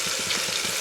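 Green chilies sizzle in a pan during home cooking, a short, steady frying hiss with faint bubbling and no talk.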